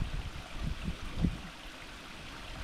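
Spring water flows in a hill stream in a forested hillside, giving a soft, constant rushing wash. A few low gurgles rise briefly near the start.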